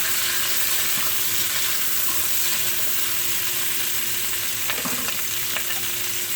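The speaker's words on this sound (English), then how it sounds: "I'm just going to stir this around just a little bit like that" Onions, carrots and potatoes sizzle steadily in a pot, a continuous frying hiss with a few soft stirring scrapes near the end and no voices.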